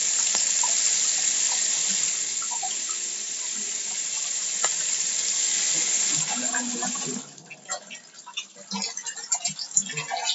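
Water spraying hard from a shower with a stuck diverter, a loud steady hiss for about seven seconds, then dropping to scattered drips and splashes.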